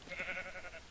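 A single sheep bleats in Minecraft, a short, faint, wavering nasal baa lasting under a second, heard alone.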